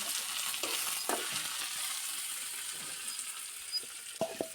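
Asian giant hornet (Vespa affinis) larvae fry in an onion and chili tempering, a soft, continuous sizzle with a few scattered stirring knocks, heard alone and fairly quiet.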